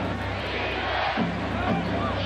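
A basketball crowd at Madison Square Garden during a 1997 NBA playoff game between the Hornets and Knicks roars in a steady, loud wash of noise, with a commentator's voice over it.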